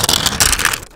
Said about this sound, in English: the film peel. Let's go ahead and take this right off.